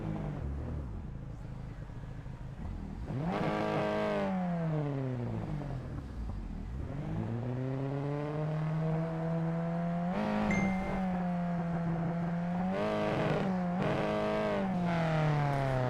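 A race car leaves pit road at Suzuka in the Skip Barber sim racing game, its engine revving up and down through several gear changes with a strong rising and falling whine, loud and close.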